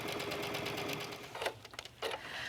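Stitching around a lantern purse with ribbon ends caught in the seam, a sewing machine whirs steadily up close, then gives a few short stop-start bursts near the end.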